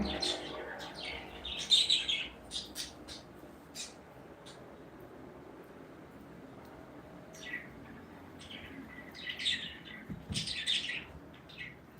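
Lovebirds chirp in quick, high bursts, with clusters of busy tweets early on and again toward the end, fairly close by.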